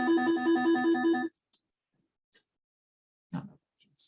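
A phone ringtone plays loud and close in a repeating melodic pattern for about a second, then cuts off, leaving near silence with a few faint clicks and a brief rustle.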